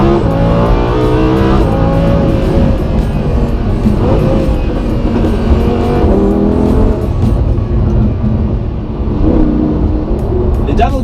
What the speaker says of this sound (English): it's still amazing to hear a natural spirited V10 in all its glory